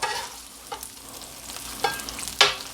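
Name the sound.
butter and meat sizzling on a griddle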